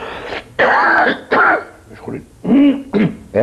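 Coughing and throat clearing from a man during a Greek interview, heard as several short harsh bursts close to the microphone, separated by brief pauses.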